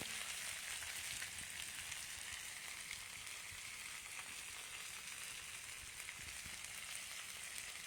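Food sizzling steadily in melted Amul butter while being basted, a constant bright crackle with small pops, no voices.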